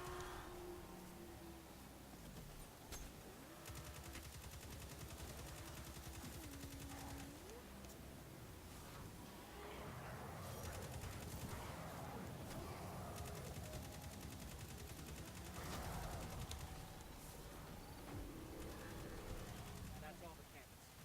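Rapid, continuous bursts of Destiny 2 gunfire from the Valakadyn crackle at low volume, while a voice talks over the action.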